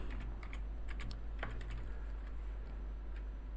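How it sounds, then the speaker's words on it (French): Light typing on a computer keyboard while writing a chat message, a few quick soft key clicks in the first two seconds over a steady low hum, then only background noise. "Je tape mon petit message et j'appuie sur la touche entrée."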